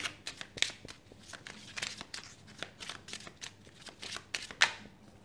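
Tarot cards being drawn and handled, quick papery flicks, slides and snaps in an uneven stream, close and fairly quiet, with one sharper slap near the end.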